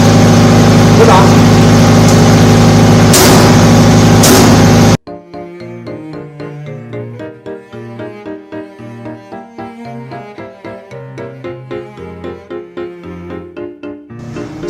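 A diesel generator set with an automatic transfer switch runs with a loud steady hum that cuts off abruptly after about five seconds, then quiet music plays on with no engine.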